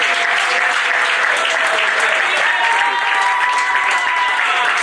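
An audience applauds at a public address, a loud, continuous roar of many clapping hands that stays dense and even from start to finish with no talk over it.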